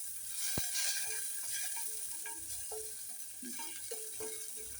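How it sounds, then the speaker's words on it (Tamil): Ginger frying in a little oil, a soft steady sizzle with scattered light clicks and taps of stirring, fairly faint and close. "கொஞ்சம் எண்ணெய் விட்டுட்டு இந்த இஞ்சியை போட்டு ஃப்ரை பண்ணுவோம்"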